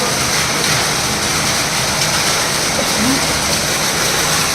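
Rainwater rushes steadily into a storage sump, a continuous loud splashing flow close by with no pauses.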